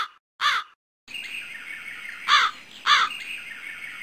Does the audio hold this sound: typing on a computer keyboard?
no